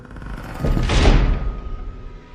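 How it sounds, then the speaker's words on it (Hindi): An old wooden door swinging open in a dark mansion, a single drawn-out groaning creak that swells to a rumbling peak and then fades away, heard alone. "वो पुराना लकड़ी का दरवाजा चरमराते हुए खुला"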